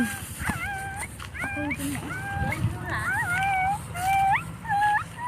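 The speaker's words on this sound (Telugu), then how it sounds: "ఇక్కడ కుక్క సౌండ్ వినిపిస్తుంది" A dog that has fallen into water whimpers and yips in short, high, wavering cries throughout, close by, while a person talks over them.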